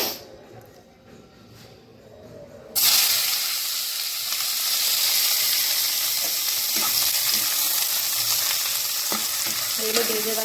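Tomato, capsicum and onion fry in a hot pan with a loud, steady sizzle that begins abruptly after a quieter opening, then holds close and continuous with a few stirring knocks.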